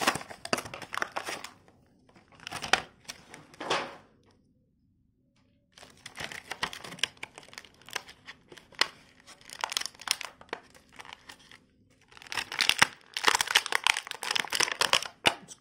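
A Star Wars Knight of Ren action figure's packaging is opened up close, with bursts of crinkling plastic and card, tearing and rustling, separated by short quiet pauses.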